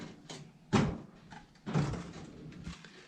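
Two quick wooden knocks and slides, a drawer or cabinet being pulled open and bumped, fairly close and quiet in a still room.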